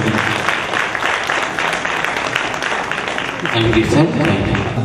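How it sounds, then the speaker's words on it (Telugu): Church congregation applauding for Jesus at the release of a Holy Spirit church song book, a dense, steady wash of clapping that swells slightly near the end, with voices mixed in. "అందరూ కూడా చప్పట్లు పడదాం యేసయ్యకి"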